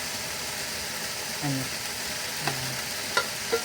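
Tofu fries in a hot pan with a soft, steady sizzle, broken by a few faint utensil scrapes and light clicks, close and fairly quiet.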